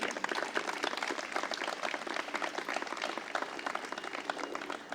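Applause at a ceremony in New York declaring Brooklyn and Queens free of the Asian longhorned beetle; moderate, fairly distant clapping from a gathered audience, steady and textured throughout with no voices over it.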